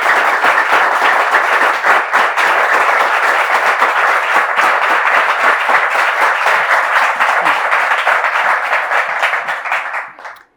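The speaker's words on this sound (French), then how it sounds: "tous ces applaudissements, c'était pour vous." Sustained studio audience applause greeting an arriving guest on a French television talk show, a dense, steady wash of many hands clapping for about ten seconds before tapering off quickly at the end.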